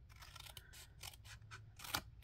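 Paper snips cutting through cardstock along a score line while assembling a Stampin' Up! bunny box, giving a series of close, crisp snipping and crunching cuts with no talk.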